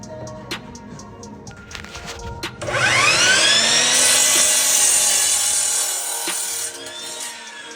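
A saw cuts through scrap 2x4 lumber to make 6-inch blocks, a loud sustained rasping cut rising suddenly after quieter workshop noise, then tapering off near the end.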